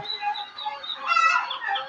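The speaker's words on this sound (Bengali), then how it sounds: "এইখানে আছে আমার কিছু চিনার হাঁসের বাচ্চা" High, continuous peeping from a cluster of Chinese goose goslings, overlapping chirps rising and falling, close and moderately loud.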